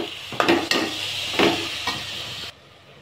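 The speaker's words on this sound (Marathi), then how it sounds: "एक वाटी दही, आणि सर्व जिन्नस आपण छान मिक्स करून घेऊ." A spoon stirs a bowl of yogurt into spiced masala rice ingredients, giving a few soft scraping and mixing strokes, close and fairly quiet, with no talking.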